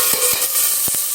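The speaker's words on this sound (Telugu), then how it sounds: "ఇదండి తాలింపు వేసామండి" A tempering of spices for Andhra-style pappu charu crackles in hot oil, a loud steady hiss with a few sharp pops scattered through the moment, no voices.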